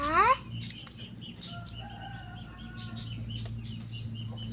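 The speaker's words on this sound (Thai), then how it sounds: "ไก่กินที่หมา" A chicken clucking as it eats the dog's food outdoors at a rural home: a short squawk opens, then faint clucks and chirps sit over a steady low background hum.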